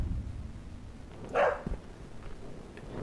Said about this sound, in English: I can hear you barking.